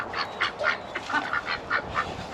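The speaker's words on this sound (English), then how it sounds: "Oh, we got ducks in with the turkeys." Ducks on a farm quacking in a rapid, rhythmic series of loud calls, several birds close together with a faint outdoor hum underneath.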